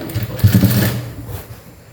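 A sewing machine runs long basting stitches on a half-shoulder blouse, a brief close burst of whirring stitching lasting under two seconds.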